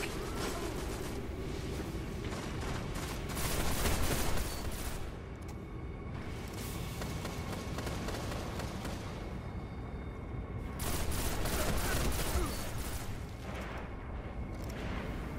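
Full-auto weapon fire in the game Destiny during a PvP match: dense, continuous bursts of rapid shots with booming blasts, sustained and loud across the whole stretch, no talking.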